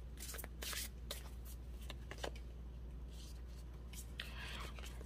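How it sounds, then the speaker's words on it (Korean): Tarot cards shuffled and drawn for a love reading, with soft papery riffles and flicks in quick bursts, close and quiet over a steady low background hum. "진짜 마지막으로 조언 카드 한 장만 더 뽑아보도록 할게요."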